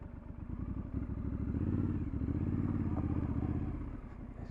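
A Triumph Scrambler 1200 XE motorcycle being ridden over slightly bumpy ground, its engine a deep, pulsing throb that rises and holds steady, with occasional rattles and thumps from the rough surface.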